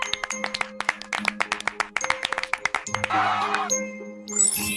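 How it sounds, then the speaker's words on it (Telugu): A cluster of hands clapping in quick, uneven bursts, bright and close, mixed with chimes and tinkling jingles, then giving way to a swell of sparkly tones. "అందరూ చిట్టికి చప్పట్లతో అభినందించారు"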